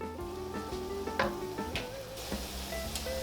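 Ground beef and onions cooking down in a pan, giving a steady close sizzle broken by scraping stirs and light clinks of a utensil against the pan.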